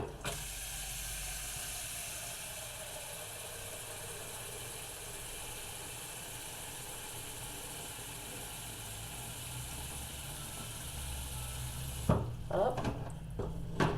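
Tap water runs steadily into a pot to be boiled for a home-cooked Christmas meal, a continuous hiss lasting about twelve seconds before it stops, followed by a few clunks and a brief spoken word.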